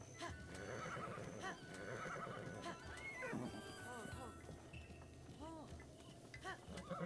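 Horse neighing and clip-clopping hooves in the video game The Legend of Zelda: Breath of the Wild, with repeated whinnies and steady hoofbeats, faint and mixed with game sounds and someone talking.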